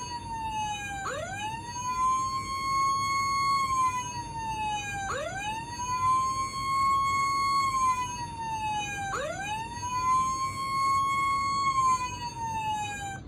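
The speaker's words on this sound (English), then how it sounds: "we have the horn, or siren too" Electronic siren of a Hess 2000 toy fire truck, three identical rising wails each swooping up and holding, repeated at a steady interval close by.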